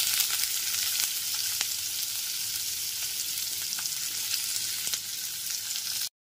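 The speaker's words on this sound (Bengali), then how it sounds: "পেঁয়াজ কুচিগুলোকে একটু হালকা করে ভেজে নিচ্ছি।" Chopped onions sizzle in a pan on a gas stove over low to medium flame, a steady close frying hiss with light crackles and occasional stirring that continues alone until an abrupt stop.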